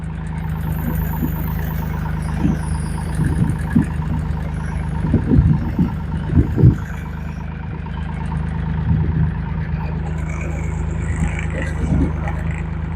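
A JT5WL800 compact wheel loader runs steadily near, its engine holding a low even drone while the hydraulics curl the bucket off the quick hitch, with a few louder clunky surges midway.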